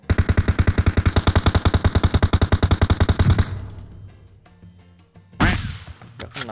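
Sustained rapid automatic gunfire in PUBG, loud and close, a steady stream of shots for about three seconds that stops abruptly. Scattered quieter impacts follow, then a sharp final burst.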